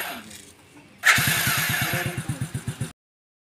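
A motorcycle engine cranks and fires up, bursting into a loud idle with a rapid, regular thumping pulse before cutting off abruptly.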